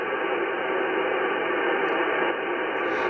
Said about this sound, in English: That is static.